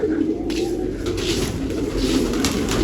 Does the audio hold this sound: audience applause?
no